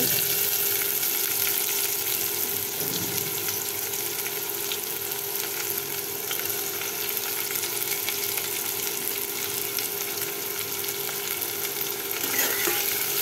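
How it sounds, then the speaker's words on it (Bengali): Chopped onion frying in a pan with cinnamon already added, a dense continuous sizzle with occasional stirring scrapes, close and even for the whole stretch, with no voices. "পেঁয়াজ কুচি দিয়েছি, এখন নেড়ে দিব।"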